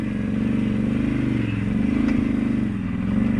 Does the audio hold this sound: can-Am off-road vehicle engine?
yes